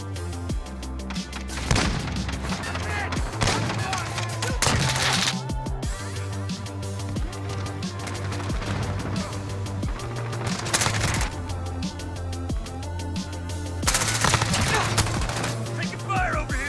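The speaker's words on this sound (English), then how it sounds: "Taking fire over here." Gunfire from an AS VAL assault rifle in a tactical shooter video game, with repeated bursts and shots over game music and effects, some heavier cracks near the start and end, and brief voice chatter under the action.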